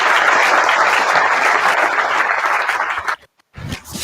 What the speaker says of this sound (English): please let's give a round of applause for Professor